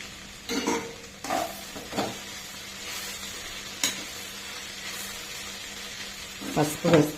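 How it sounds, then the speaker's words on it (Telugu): Okra (bendakaya) frying in a pan, with a soft steady sizzle and several short bursts of stirring or scraping spread across the clip, plus a louder cluster of clatter near the end. "ఇప్పుడు ఒక 2 minutes ఫ్రై అవనిద్దాం."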